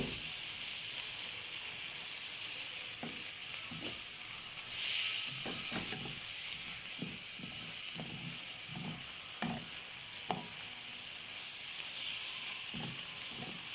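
Shawarma meat sizzling as it goes into a pan of fried onions, a continuous close hiss and crackle with a few soft stirring knocks and scrapes, no talking.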